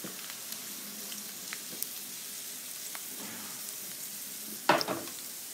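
Garlic and red pepper fry in oil in a pan for a broccoli pasta, giving a soft, steady sizzle with light crackles and a short louder clatter of stirring near the end.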